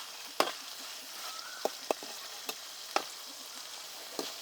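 Meat fries in oil in a pan with a quiet, steady sizzle, broken by several sharp clicks and taps from a utensil scattered through the few seconds.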